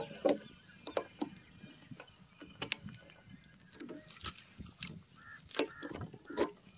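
Fuel cap on a Suzuki Access 125 scooter being opened and locked, a series of small close mechanical clicks and latch snaps spaced irregularly over quiet background.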